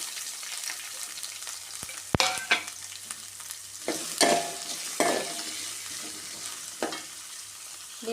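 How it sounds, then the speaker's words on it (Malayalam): Chopped onions and green chillies hit a pan of ginger and garlic, sizzling steadily while a spoon scrapes and stirs, with sharp clacks of utensil against metal throughout; no voices. "ഈ സമയം നമ്മൾ അരിഞ്ഞു വെച്ച സവോളയും പച്ചമുളകും ചേർത്ത് കൊടുക്കാം"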